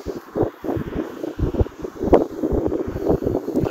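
Gusty wind buffeting the microphone outdoors, a loud rumbling flutter in uneven bursts with no voices over it.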